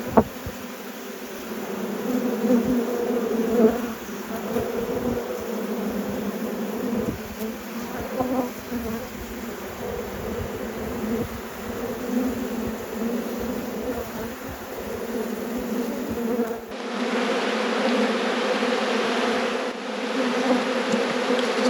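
A dense, steady buzz of many honeybees swarms close by around a hive, a continuous droning hum with individual insects flying past, and no voices.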